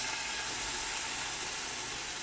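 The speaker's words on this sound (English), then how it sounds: "Got a nice sizzle going on." Lamb chops sizzle in a skillet of hot oil, a dense, steady hiss that fills the space at moderate volume without a break.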